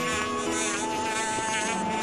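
Deku Hornets in Zelda: Skyward Sword swarm close by with a loud, continuous, wavering insect buzz carrying a steady tonal whine, heard alone.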